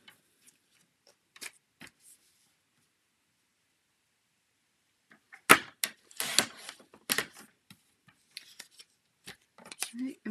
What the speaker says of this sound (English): one thing that we can do is kind of trim this paper to give a little color to the inside